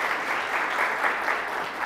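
Audience at a business talk claps together for the VidaVeg team, a steady dense wash of applause that holds level and fairly close throughout the whole stretch, with no voices over it.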